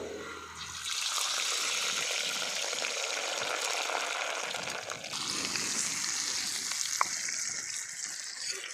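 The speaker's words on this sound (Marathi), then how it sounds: "आता तेल पण चांगलं गरम झालं आहे आपण या तळून घ्यायला मिरच्या टाकू अगोदर" Green chillies frying in hot oil while gram-flour bhaji batter waits, a steady dense sizzle filling the whole stretch with a small sharp tick near the end and no voices.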